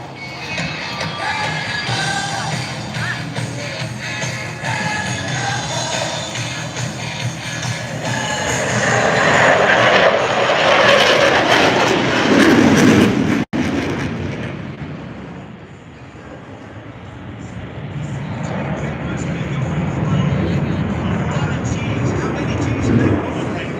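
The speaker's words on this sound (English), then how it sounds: "from the left, the Super Hornet minimum radius turn." An F/A-18 Super Hornet flies a minimum radius turn at an air show, its loud, continuous jet roar swelling and then easing off before rising again.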